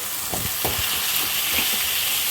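Curry leaf paste fries in a pan with a dense, steady hiss, close and continuous, with a few soft stirring scrapes underneath.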